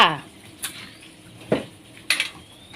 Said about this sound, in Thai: ปิดฝาหม้อไว้ก่อนจ้า